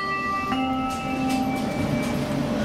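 A Sheffield tram rolls along its rails with a steady mechanical rumble and sustained tonal whine, fairly close and continuous throughout, with no voices.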